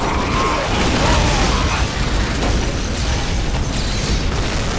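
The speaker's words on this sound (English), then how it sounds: "those are only the heavy bolter guys are shooting because of just how far" Rapid heavy bolter gunfire from Space Marines in the Dawn of War strategy game, a dense, continuous roar of distant booming shots and bursts that fills the whole clip at steady loudness.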